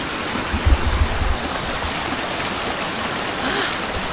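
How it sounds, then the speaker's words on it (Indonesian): Mountain river stream flowing beside the Tancak Panti waterfall in Jember, a dense, loud, continuous rush of water with a few low thumps near the start. "Jadi belakangnya sungai."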